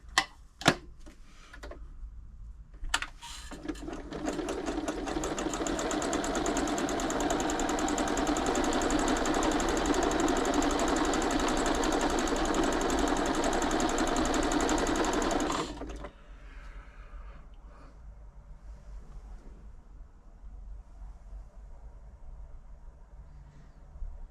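Janome Memorycraft 3000 sewing machine stitching a decorative pattern, a loud, steady mechanical whir and rapid ticking running for about thirteen seconds before stopping abruptly, with a few clicks before and after.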